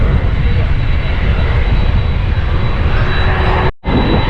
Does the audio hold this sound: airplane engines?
yes